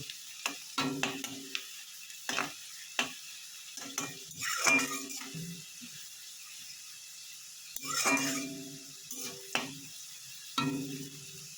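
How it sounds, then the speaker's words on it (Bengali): Onions frying lightly in fish oil in a pan, a quiet sizzle broken by repeated stirring scrapes and clinks of a spoon against the pan. "আর পেঁয়াজটা আমি বেশি লাল করে ভাজবো না, হালকা করে ভাজবো"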